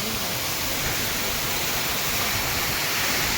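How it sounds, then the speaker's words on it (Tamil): A constant broad rush of falling water from a hidden waterfall with reduced flow roars steadily, dense and hissing, with no breaks and no voices. "இதுதான் அந்த ஃபால்ஸு. தண்ணி கொஞ்சம் கம்மியாக வந்துட்டுருக்கு."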